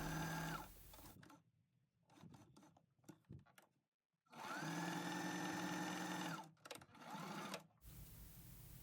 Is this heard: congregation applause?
no